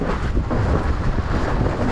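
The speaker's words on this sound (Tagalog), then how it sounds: "Lakas lang yung hangin talaga." Strong wind roars and buffets the microphone in a continuous, heavy rumble with no speech.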